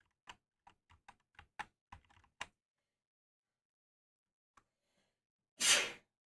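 One loud, close sneeze bursts out after a run of quiet clicking keyboard typing and a short pause.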